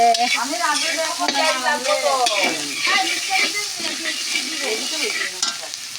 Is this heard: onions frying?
yes